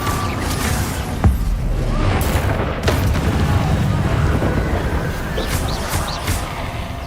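Fire and blast spells from the wizarding game Hogwarts Legacy, a dense run of booming bursts and crackling impacts with sharp peaks near one and three seconds over a constant roaring wash, with faint voices.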